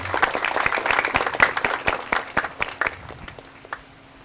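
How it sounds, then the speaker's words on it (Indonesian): An audience claps for the people of Cilegon at a public talk event, a dense burst of many hands that thins out into scattered claps toward the end. "Jadi tepuk tangan dulu buat masyarakat Cilegon."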